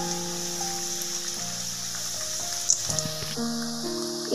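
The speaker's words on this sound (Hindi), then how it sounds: "इसको हम धीमी आंच में ही फ्राई करेंगे, वरना ये हमारे अंदर से कच्चे रह जाएंगे और ऊपर से गोल्डन फ्राई हो जाएंगे।" Muthiya dumplings of besan and suji frying slowly in oil on low heat, with a continuous soft sizzle and crackle that carries on steadily beneath a faint tonal hum from the kitchen.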